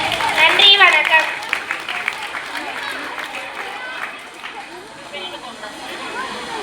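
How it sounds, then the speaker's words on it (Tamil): An audience at a school annual day drama applauds, a burst of clapping that starts strongest and then tapers, mixed with voices, cheering and crowd chatter. "எப்பா ரொம்ப பலமா கைத்தட்டலாம்."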